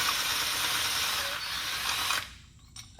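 A ratchet wrench working on a Toyota Sienna AWD differential arm bushing, heard as a dense, loud mechanical clicking run up close that cuts off abruptly, followed by a few quieter knocks.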